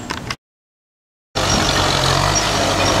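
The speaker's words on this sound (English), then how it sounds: "So I would imagine that's probably a 95 horsepower tractor." A Kubota M9540 farm tractor's engine runs loud and close in a steady drone, with a brief burst, a second of silence, then continuous running.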